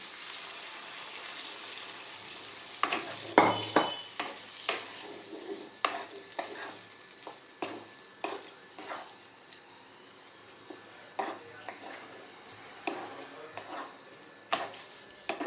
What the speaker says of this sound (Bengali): এর মধ্যে তড়কা ডালটা আমি সিদ্ধ করে রেখে দিয়েছিলাম, সেই ডালটা দিয়ে দেবো।